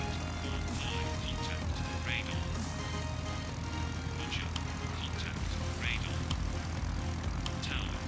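A light propeller plane in flight without autopilot gives a steady, loud engine drone throughout, with a few brief higher chirps over the continuous hum.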